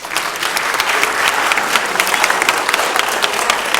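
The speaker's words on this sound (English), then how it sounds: "So let's give them a round of applause." Loud, sustained applause from a lecture audience, many hands clapping in a thick, continuous roar close by, with no talk over it.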